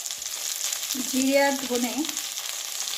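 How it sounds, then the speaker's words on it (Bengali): Vegetables for shukto fry in a spice tempering, giving a constant close sizzle and hiss throughout while someone speaks briefly over it. "ফোড়নের মধ্যে তো দিয়ে দিলাম সবজি। এখন 2-1 মিনিট ভালো করে আমি কষিয়ে নেব।"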